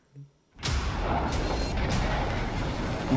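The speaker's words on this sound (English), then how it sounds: "Ooh, that's a lot of missiles." A missile barrage in the Destiny 2 Renegades trailer bursts in after a brief quiet moment, becoming a loud, sustained roar of rumbling impacts and whooshing blasts.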